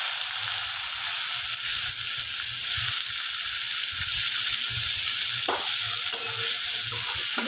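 Chopped onion frying in hot oil with a pinch of garam masala powder for chicken kosha, a steady close sizzle broken by occasional stirring scrapes, with no voices.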